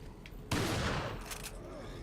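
Riot gun shots in Resident Evil 4, one loud broad blast at the start of a sustained burst of gunfire, ringing on under game noise.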